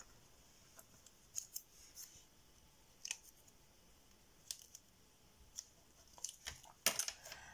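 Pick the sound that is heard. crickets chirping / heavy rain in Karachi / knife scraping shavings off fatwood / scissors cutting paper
scissors cutting paper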